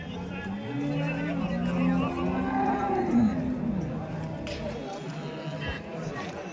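Low, drawn-out cow moos rise and fall over a busy crowd murmur at a large cattle market in Chalisgaon, with a steady background of voices and activity around the animals.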